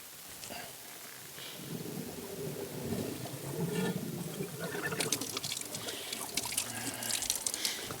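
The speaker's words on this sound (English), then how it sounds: "main pump is bleeding water." Water pours and splashes as it drains from the main pump of a fire truck used as a farm truck in snow, a steady broadband gush that grows busier partway through, close and fairly loud with no talk.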